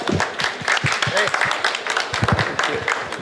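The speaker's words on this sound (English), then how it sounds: "One round of applause for CGI, guys." An audience claps for CGI at a chapter anniversary celebration, with steady applause running under people talking throughout.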